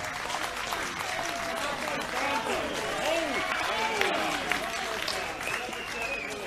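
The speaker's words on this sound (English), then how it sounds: "They deserve a huge round of applause from all of us." A legislative chamber audience applauds during a provincial state of the province address, with sustained clapping blended with murmuring voices and scattered calls, moderately loud and continuous.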